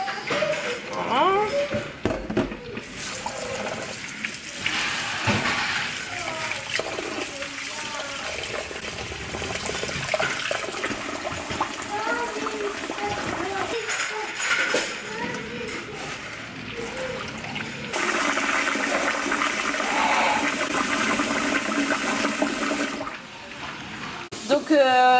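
Lentils being rinsed under running water, a steady splashing wash with sloshing and tap-like flow through most of the stretch, continuous and fairly loud, with a brief dip near the end.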